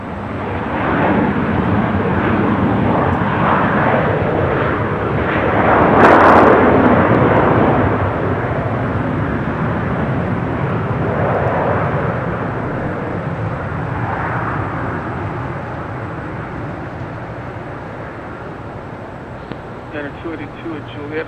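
Spirit Airlines Airbus A320neo taking off at Los Angeles International Airport, a broad jet engine roar swelling near the middle and slowly fading, with voices talking over it.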